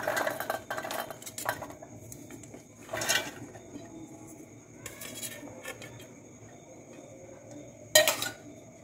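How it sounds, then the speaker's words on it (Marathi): Pieces of fresh coconut are dropped into a large mixer jar in a home kitchen, giving several scattered clinks and knocks on metal that are mostly quiet, with a sharper clatter near the end. "हे ओल्या नारळाचे तुकडे मी मिक्सरच्या मोठ्या भांड्यामध्ये टाकून घेत आहे।"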